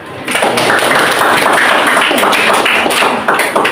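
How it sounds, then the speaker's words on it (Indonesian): A class of grade VIII madrasah students applauding together: a dense, loud patter of many hands clapping at once, starting abruptly and holding steady for a few seconds before trailing off. "Tepuk tangan."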